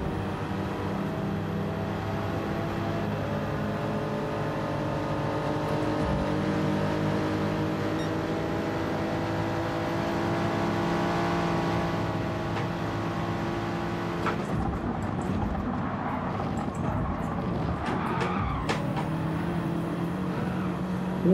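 Race car engines in a racing video game with a BMW Z4 and a BMW M6, a continuous droning engine whine at high revs on a straight, with a gear shift and a pitch change partway through.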